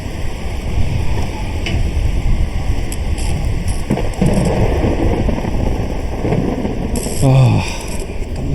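Video game thunderstorm with steady rain and bursts of rolling thunder, loud and close, under a voice talking at times, with a few sharp crackles near the end.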